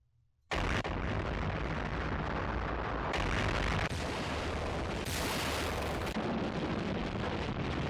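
A long, sustained explosion from an anime sound effects library bursts in suddenly and roars on as dense, loud, continuous rumbling for several seconds without dying away.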